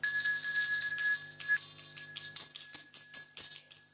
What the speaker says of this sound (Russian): в лицее номер 6, где вот-вот зазвенит колокольчик